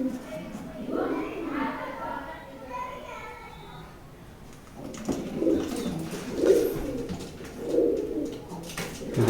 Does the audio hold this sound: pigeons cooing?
yes